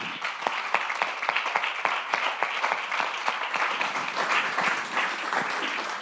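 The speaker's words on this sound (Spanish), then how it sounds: "deis un enorme aplauso a Cristina Monge y a Jean-François Nouvel" An audience at a live talk event applauds the speakers, a steady crowd of hands clapping with sharp individual claps standing out, sustained and even throughout.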